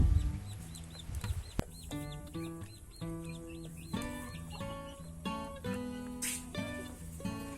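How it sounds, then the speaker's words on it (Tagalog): Hens and a rooster in a backyard breeder coop, four hens with one rooster, cluck and call repeatedly in overlapping bursts at close range, with no talking. "Sa ating manukan ngayon, meron tayong breeder na 4 hens at isang rooster."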